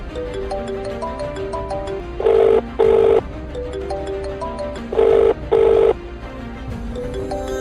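A phone ringback tone sounds as a call is placed, giving two pairs of steady buzzing rings spaced a few seconds apart over a background music bed.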